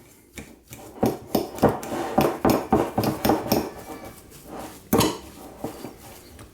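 A spoon works a potato croquette mixture with flat parsley and pepper in a bowl, giving a run of rhythmic scraping and thumping strokes, close and moderately loud, with no talk.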